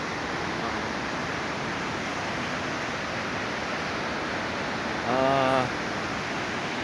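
Li Phi Falls waterfall on Don Det, Laos, a loud, constant roar of rushing water that fills the scene, with a brief voice rising over it near the end.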